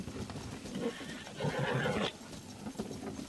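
Wild horses whinny close by, a loud drawn-out neigh at the center with hooves clip-clopping around it outdoors.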